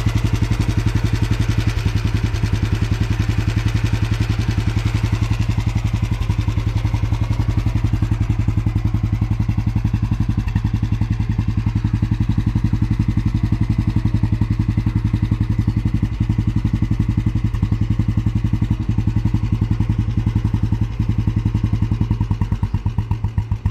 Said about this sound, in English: So it has been retarded a while, so the idle is smooth.